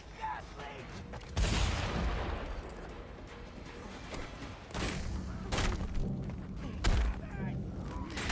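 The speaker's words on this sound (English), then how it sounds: "Right, I'm gonna fucking shoot him." Gunfire and heavy booming shots in the Mad Max video game, several loud bursts spread across a busy, noisy combat scene with continuous background rumble.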